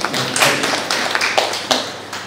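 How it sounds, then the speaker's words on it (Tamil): A handful of audience members at a Republic Day debate event clap sparsely, with scattered, uneven hand claps over a couple of seconds rather than full applause. "கை தட்டின 4-5 பேருக்கு மட்டும் நன்றி."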